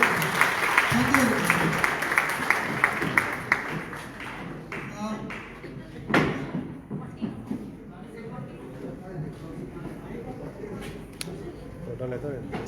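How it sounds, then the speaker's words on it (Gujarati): An audience claps at a Covid warrior award ceremony, with a burst of scattered applause at first that thins into sporadic claps while a voice talks over the hall. "તાળીના ગડગડાટથી વધારવા માંગુ છું"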